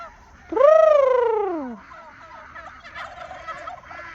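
A single loud turkey gobble, a warbling descending call lasting about a second, followed by quieter background chatter of birds, including ducks, outdoors in the rain.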